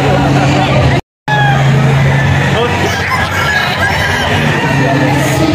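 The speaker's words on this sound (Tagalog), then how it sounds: "Puro manok." Chickens and roosters at a game farm in Baler, Aurora, clucking and crowing amid a busy expo crowd, with babble, voices and a passing car mixed in, briefly cut by a moment of silence.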